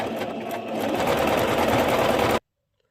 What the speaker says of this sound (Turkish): Bu dikişi komple dikip bitireceğim.